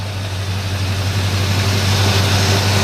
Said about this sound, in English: Nice quiet running motors